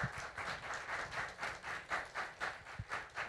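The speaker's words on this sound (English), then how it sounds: "Big round of applause." Faint, rhythmic clapping from an audience after a policy pitch talk, a steady pulse of claps heard at a distance with no speech over it.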